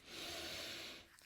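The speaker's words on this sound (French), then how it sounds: "Alors là, j'ai une grande respiration" A deep, slow breath drawn in and let out during a quiet energy-healing session, a broad airy rush that swells for about a second and then fades, close and fairly faint with no talking.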